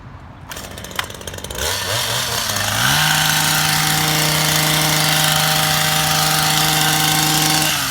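A gas-powered trimmer cutting down daylilies starts up with a few sputters, then revs to a steady, loud, high-pitched engine drone that holds constant for several seconds, with no talking.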